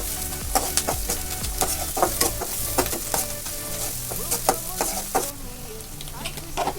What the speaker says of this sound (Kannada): ಇವಾಗ ಈರುಳ್ಳಿ ಹಾಕಿ ಚೆನ್ನಾಗಿ ಫ್ರೈ ಮಾಡ್ತಾಯಿದ್ದೀನಿ ನೋಡಿ.